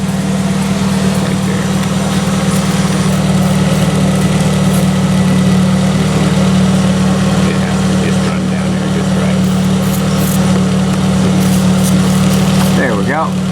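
A Toyota 2ZZ-GE engine in a Pontiac Vibe GT idles with freshly welded custom exhaust, giving a steady, loud, close rumble throughout.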